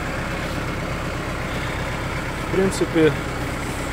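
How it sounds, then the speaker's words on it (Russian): Kubota GT5 tractor engine idling steadily with a low, even diesel rumble, close by and continuous, while someone speaks briefly over it near the end. "Обороты поднимает ровно, опускает тоже ровно, очень отзывчив на педаль газа, не дымит"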